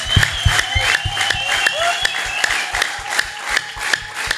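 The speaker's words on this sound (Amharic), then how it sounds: "ይቀጥል ጭብጨባው ይቀጥል።" Rhythmic clapping from a church congregation, steady and fairly loud with repeated sharp beats in an indoor worship setting; no talk, only the crowd's sustained applause.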